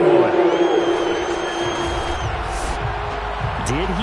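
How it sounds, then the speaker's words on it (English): Football stadium crowd at a UFL Dolphins game shouting and cheering as a replay is watched, a dense continuous roar of many voices with scattered whoops. "plenty of shouts from this crowd as they watch the replay"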